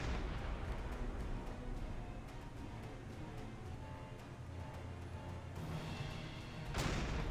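Naval gunfire in the submarine game Silent Hunter 5, a dense, continuous roar of booming shots and rumble with a louder burst near the end and no talk.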